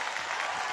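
Brief, steady burst of crowd clapping and applause for mummy at a lively celebration, dense and fairly close with no pauses.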